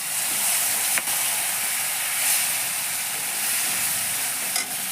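Steady, dense sizzling of koi fish laid into hot oil with black cumin seeds, a continuous loud hiss with a couple of faint clinks and no talking.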